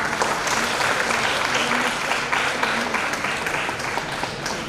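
Seminar audience at a two-day national event in an auditorium giving big claps for the organizers, steady dense applause sustained throughout, with faint voices murmuring underneath.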